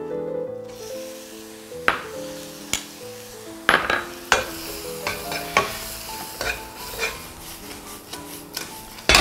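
Shrimp stir-fry in a wok with egg yolk fried to a foamy state, giving a steady sizzle under scattered spatula scrapes and clanks against the pan, close up, with a musical background and no talking.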